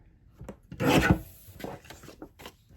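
A paper trimmer slices through card for a card-making kit with a single firm rasping cut, followed by lighter scraping and handling noises, close up in a quiet room.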